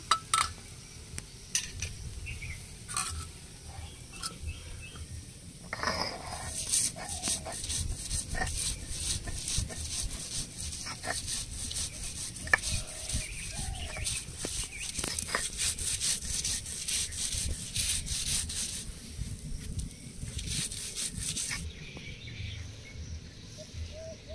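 Fried acacia leaves are being ground by hand, giving close, irregular scraping and rubbing strokes that come in bursts against a quiet kitchen background.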